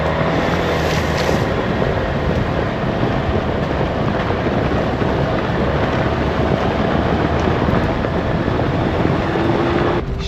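A car drives along a dirt trail in the Sierra Nevada, producing a loud, constant broadband rumble and road noise from inside the cabin for the whole stretch.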